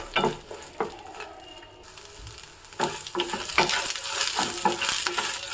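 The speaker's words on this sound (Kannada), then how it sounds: "ಚಪ್ಪರದ ಅವರೆಕಾಯಿ ಇರುತ್ತಲ್ಲ ಅದನ್ನ ಹಾಕ್ತಾ ಇದ್ದೀನಿ ಇವಾಗ ಚೆನ್ನಾಗಿ ಹುರಿಬೇಕು ಎಣ್ಣೆಯಲ್ಲೇ ಫ್ರೈ ಆಗಬೇಕು" Field beans frying and being stirred in hot oil in a pan, a steady close sizzle broken by repeated scraping stirs, no voices.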